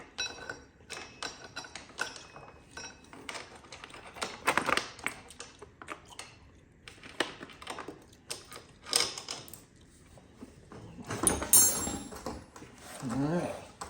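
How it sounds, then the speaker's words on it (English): Chain being peeled back off the sprocket of a Yamaha TT-R 125, giving irregular metallic clicks and rattles at close range, with some faint handling noise. "Just kind of peeling this chain back."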